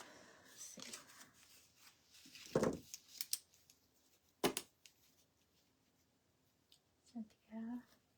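A pair of scissors snips and slices close by during a live paint party, with several crisp cuts and rustles spread across the moment while people talk quietly in between.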